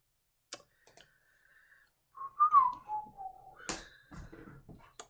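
A person whistles close into a microphone, a few short sliding, wavering notes that are loud and thin, with scattered clicks and taps around them and no speech.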